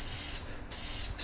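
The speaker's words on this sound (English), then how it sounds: "spray a little," Spray paint can hissing in two short bursts with a brief pause between, close and fairly loud, while a skull design is being painted.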